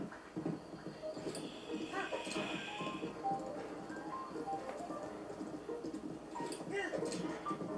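A horse's hooves clip-clop at a gallop along a roadway in The Legend of Zelda: Breath of the Wild, a busy rhythmic patter under game ambience, moderately faint, with someone talking over it.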